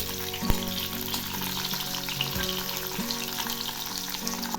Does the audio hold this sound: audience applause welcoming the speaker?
no